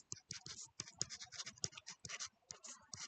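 A pen scratches out quick strokes on a tablet during a Korean geography lecture, with faint, close, irregular ticks and scrapes in short bursts.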